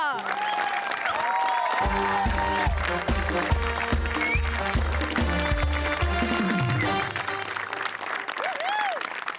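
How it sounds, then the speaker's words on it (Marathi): Audience applause at a Marathi comedy awards show, steady and full for most of the stretch with music playing underneath and a few cheers mixed in. "जोरदार टाळ्या"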